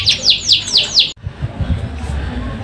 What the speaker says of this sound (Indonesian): Mantap burungnya ya.